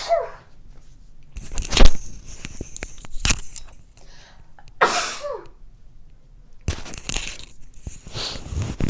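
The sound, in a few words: person sneezing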